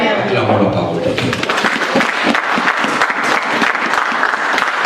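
Church congregation at a Palm Sunday service clapping together, loud and sustained rhythmic applause filling the room, with voices mixed in throughout.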